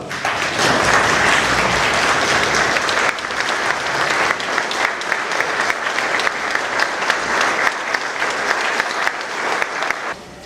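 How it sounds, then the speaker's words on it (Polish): A conference audience gives loud, sustained applause at a county's 15th-anniversary event, a dense steady roar of many hands lasting about ten seconds. "Gromkie brawa!"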